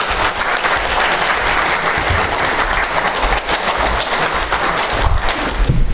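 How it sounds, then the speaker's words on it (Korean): Steady, dense applause from an audience at a beauty-industry talk fills the room, a continuous crackle of many hands clapping throughout. "자, 여러분 정정훈 여사님께 뜨거운 박수 부탁드리겠습니다."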